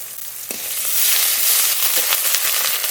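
Garlic, ginger and cumin paste sizzling in hot oil with fried onion and tomato, a loud continuous crackling hiss that swells slightly partway through, with a few sharp pops and spatters.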